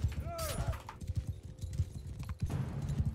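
Horses galloping in Mount & Blade II: Bannerlord, a steady loud clip-clop of hooves running throughout, with a brief whinny near the start and battle noise around it.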